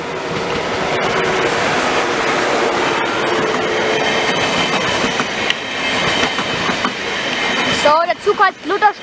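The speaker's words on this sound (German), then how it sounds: "Ein ICE2 der Baureihe 402." An ICE2 class 402 high-speed train rushes past at close range with a loud, sustained broadband roar and wheel clatter, fading into a few rhythmic clacks near the end.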